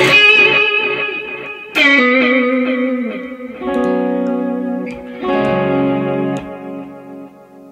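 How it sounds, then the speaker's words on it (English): A TC Electronic Flashback X4 delay pedal in Tube mode, emulating a 1960s-70s tape delay: four played notes and chords, each trailing off into warm, darkening repeats, loud and close, with no voices. "So as you can hear it, kind of works as a real tube delay machine."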